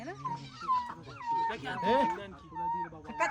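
A dog whimpering nearby in a series of high, drawn-out whines, with people talking around it.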